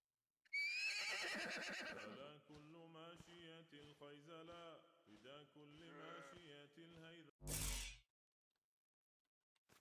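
Horse in a video game gives a loud, shrill whinny that falls into a long, shaking neigh, followed by a brief sharp crack, with no one talking over it.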